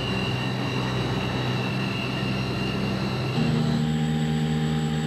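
A steady, droning aircraft engine roar fills the scene during a simulated engine failure on a test pilot training flight, with the tone shifting and deepening partway through as power changes.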